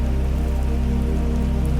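Steady, dense patter of raindrops falling, loud and continuous, under a low droning hum with no pauses or voices.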